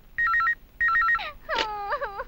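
A telephone rings for a call in two short warbling electronic bursts, then a rising tonal wail follows, moderately loud and close, with no speech.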